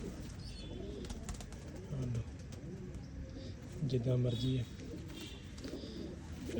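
Champion flying pigeons coo softly and continuously nearby while someone talks over them in short phrases.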